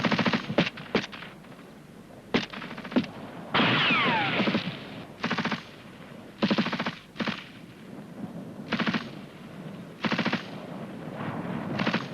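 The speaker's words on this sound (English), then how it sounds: "before they move, the rest of the rifle group are giving them covering fire" Machine guns lay down covering fire for a rifle squad in bursts of rapid automatic shots, short and longer volleys repeating irregularly with brief pauses, loud and fairly close.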